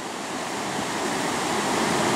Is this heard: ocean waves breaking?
yes